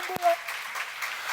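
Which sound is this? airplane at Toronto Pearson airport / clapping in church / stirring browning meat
clapping in church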